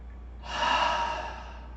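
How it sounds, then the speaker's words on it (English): An open-mouth exhale during yoga breathing comes out as one long, breathy whoosh at close range, swelling and then fading over about a second, with no talk. "Then open mouth exhale,"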